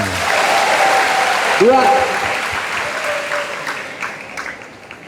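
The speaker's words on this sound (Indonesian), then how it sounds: "Tepuk tangan untuk temanmu benar." Students in a classroom at MAN 1 Jepara clap together in a dense, loud burst that fades toward the end, with a voice speaking over the applause.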